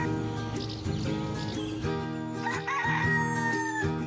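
A rooster on a farm lets out one drawn-out crow in the latter half, heard over a steady music bed with no voices.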